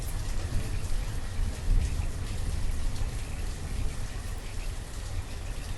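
Steady rain in the snowy village-building game Banished, a dense unbroken wash of patter holding at an even level throughout with no talk.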